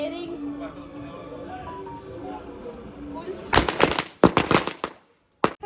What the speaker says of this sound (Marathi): म्हणजे इज्जत ना काढली हातात फटाके फोडून